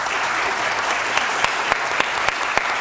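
An audience at a state annual summit claps in a round of applause, a steady, dense wash of many hands with no pauses, moderately loud and close.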